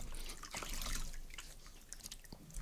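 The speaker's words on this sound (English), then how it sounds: "I'm gonna try and rinse my skin off" Water splashed onto the face while rinsing off a skincare cleanser at a sink, with close, irregular splashes and drips that stay fairly loud throughout.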